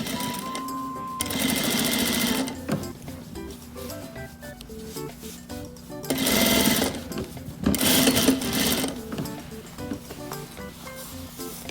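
Sewing machine stitching the waist of a pleated school uniform skirt, with bursts of loud continuous whirring at the start, middle and near the end, separated by quieter handling pauses.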